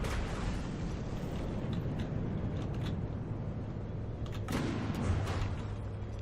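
Weapon explosions in the naval combat game From the Depths, a steady dense rumble of blasts and gunfire with a louder burst around the middle, no voices.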